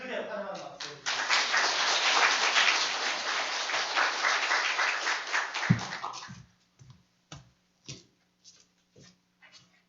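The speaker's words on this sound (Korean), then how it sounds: "우리 크게 환영하는 박수 해주시기" A church congregation at a Sunday morning service breaks into strong, sustained applause of welcome for several seconds, then it thins to a few scattered claps before stopping.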